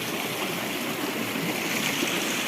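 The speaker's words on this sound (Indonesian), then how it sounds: "Dan ini di sungai kecil." A small river stream flows steadily nearby, a loud, continuous watery rush and babble with no speech, heard alone at the bank.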